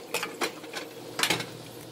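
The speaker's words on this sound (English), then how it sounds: "And now I'm going to stir the broccoli." Broccoli stirred in a pan for a pork chop and shrimp stir-fry, giving a few soft scraping strokes in a brief, quiet, uneven rhythm.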